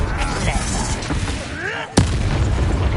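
A Confringo blasting curse bursts in Hogwarts Legacy, one sharp explosive crack midway through amid busy game noise and voices talking throughout.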